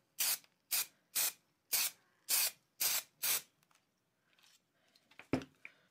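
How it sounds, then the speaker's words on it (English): Seven short, evenly spaced hissing sprays from a lilac spray paint can, followed by a pause and some light handling clatter. "So I'm adding in some of this lilac spray paint."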